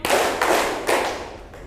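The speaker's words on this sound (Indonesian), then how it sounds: "Tepuk 1 kali." Three firm, evenly spaced group claps from a clapping game, each sharp and close with a short echo, and a faint fourth tap near the end.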